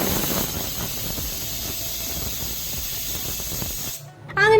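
A pressure cooker on a gas stove vents steam in a loud, steady hiss that runs for about four seconds, then cuts off abruptly.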